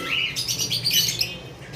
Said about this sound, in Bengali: তারপর আমাদের কাছে ক্রিম ফেস কোকাটেলের মেল রয়েছে